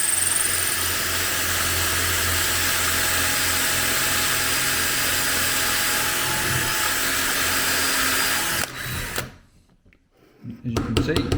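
A power drill fitted with a screw made into a cutter whines at a steady high pitch for several seconds while cutting into wood, then winds down abruptly, followed by quiet handling noises.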